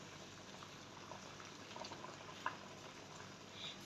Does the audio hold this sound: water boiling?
yes